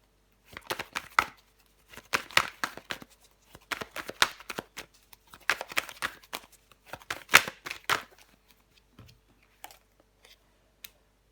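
Tarot cards are shuffled, slid and laid down in quick bursts of crisp riffling and soft slaps, close and quiet, with pauses between handfuls and a final tap after a short silence.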